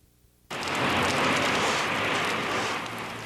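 Steady rain pours down in January over the Twin Cities area where a major snowstorm had been expected, a dense, loud, continuous hiss that begins abruptly and runs throughout.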